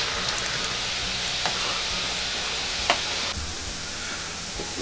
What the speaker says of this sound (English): this has been frying for 3 minutes now